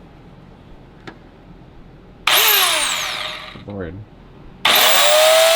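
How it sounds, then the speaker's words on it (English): A large Dremel cutting a stripped screw on a Ferrari F430 header whines in two loud bursts of high-pitched grinding, with a brief voice exclaiming between them. "this one we're gonna have to cut. So time for some power tools."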